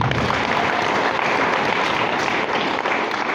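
A church congregation breaks into applause, dense sustained clapping from many hands filling a short stretch at steady loudness.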